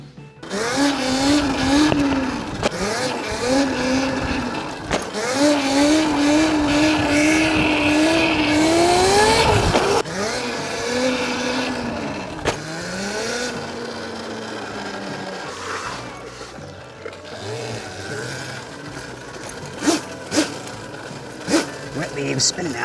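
An ETM RTR radio-controlled car with upgraded reservoir shocks spins its wheels on wet leaves. The electric motor whines in rising, repeated revving bursts, loud and close, then settles into choppier, lower running with scattered clicks and scuffs.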